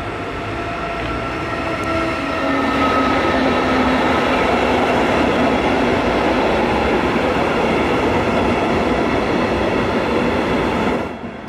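A train hauling ALEX double-deck coaches rolls through Hirschaid on the Bamberg–Nuremberg line, a loud, steady rumble of wheels and wagons that builds in the first seconds and holds until the clip ends, with no voices.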